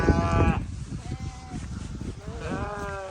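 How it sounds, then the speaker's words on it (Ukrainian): A horned goat at a park bleats several times, loud wavering calls near the start and end with people talking in between. "Козел з рогами."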